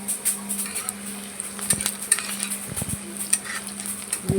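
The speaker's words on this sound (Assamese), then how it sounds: "এয়া মই পিঁয়াজ, জলকীয়া একেলগে দি দিম আৰু ভালদৰে ৰঙচুৱাকৈ এইখিনি ভাজি লওঁ" Chopped onions and chillies fry in a pan, giving a faint, low sizzle under a steady hum, with a few close clinks and scrapes of a spoon stirring against the pan.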